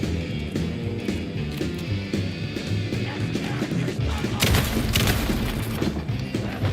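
Shotgun blasts in the Alan Wake 2 Night Springs DLC land as dense booming thuds over a busy game soundscape, with a heavier burst near the end amid continuous combat noise.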